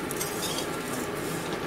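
Flattened rice (chire) frying in a pan while a utensil keeps stirring it, giving a steady, dense sizzling hiss with faint scraping throughout and no voices.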